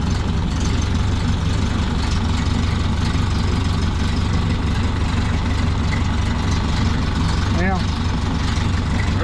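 A 1930 Ford Model A engine idles with a constant, loud, low rumble that fills the whole clip, while someone speaks briefly over it nearby.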